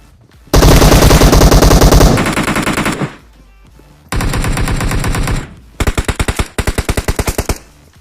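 Gunfire in the mobile game PUBG Mobile: three loud, close bursts of rapid automatic fire separated by short pauses, the last burst breaking into distinct evenly spaced shots, with no talking.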